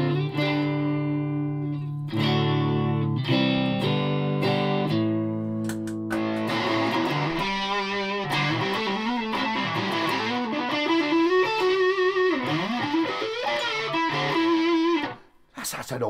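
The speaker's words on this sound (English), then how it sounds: "That's an all right single coil sound." An electric guitar with a single coil pickup plays chords, then a distorted lead with bending notes and quick runs, loud and continuous through an amplifier.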